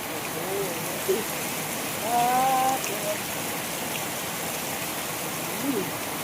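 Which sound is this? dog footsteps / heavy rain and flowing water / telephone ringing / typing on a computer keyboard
heavy rain and flowing water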